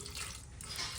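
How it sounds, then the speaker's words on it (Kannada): Water poured into coco peat for home garden potting mix, a steady close trickling and splashing flow lasting about a second with no talk. "ಸೊ ಇದಕ್ಕೆ ಸ್ವಲ್ಪ ನೀರು ಹಾಕ್ತಿದ್ದೀನಿ"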